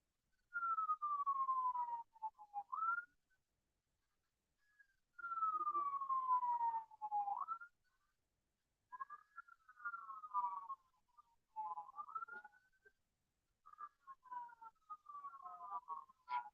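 A wailing siren sweeps down and up in repeated long bursts with short gaps between, fairly faint and distant, with no talking.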